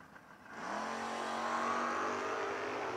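Drag race cars, a Camaro and a Mustang, roar up at the start line of a footbrake drag racing event. The engines build to a loud, sustained, rising howl after a quieter opening.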